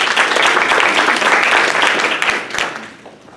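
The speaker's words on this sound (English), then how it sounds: "Round of applause, please." An audience at a panel discussion breaks into dense, sustained applause that holds steady and then tapers off toward the end, with no talking over it.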